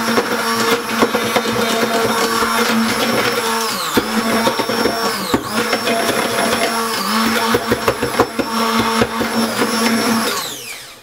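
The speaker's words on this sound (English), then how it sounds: "put it in the blender" A blender blending tomato pasta sauce runs loudly and continuously, its whirring motor pitch dipping and surging in a few cycles before winding down at the end.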